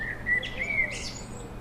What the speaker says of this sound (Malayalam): ഇന്ന് രാവിലെ നോക്കുമ്പോഴേ അതിലൊരു കുരുവി കൂട് വയ്ക്കാൻ ഒരുങ്ങുന്നു